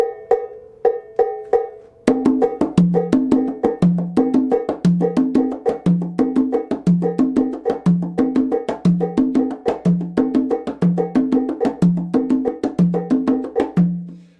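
Abakuá drums play a steady, driving 6/8 Afro-Cuban rhythm against the clave, sparse isolated strokes giving way after two seconds to dense, evenly repeating hits with a recurring low drum accent, close and loud throughout.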